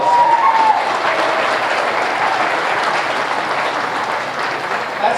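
Sustained audience applause in an arena at a junior swine show, a broad even wash of many hands clapping with a short whistle at the start, holding steady throughout.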